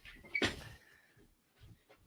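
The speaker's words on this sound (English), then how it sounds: "Let me shut this door." A room door pushed shut during a casual podcast recording, a single fairly loud knock near the start, followed by faint shuffling and a quiet room.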